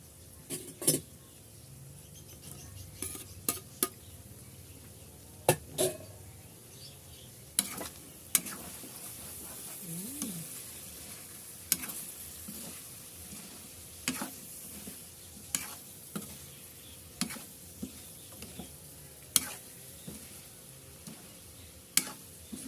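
Bitter gourd fries in hot oil with a faint, steady sizzle, punctuated by frequent sharp clicks and taps of a utensil against the pan.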